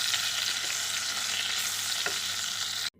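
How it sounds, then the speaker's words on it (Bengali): Potatoes fry in hot oil for biryani-style cooking, seasoned with salt and turmeric, giving a steady, loud, continuous sizzle close up that ends abruptly near the end. "এবার লাল করে আলুগুলোকে ভেজে নেব।"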